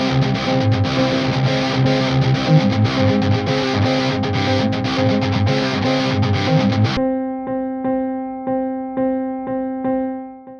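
A simplified guitar riff line played on a sampled Steinway grand piano enters partway through, after a dense distorted band passage, as a series of clear rhythmic struck notes that ring and decay, with no talk.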